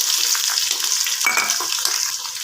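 Green chillies and onions hitting hot oil in a pot, a steady bright sizzle with a brief splutter and a few soft stirring knocks, close and fairly loud with no talking.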